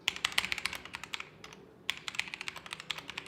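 Rapid typing on a lightweight mechanical keyboard, with crisp, clacky keystrokes close up, a brief pause partway through, then the run of keys picks up again, with no voices.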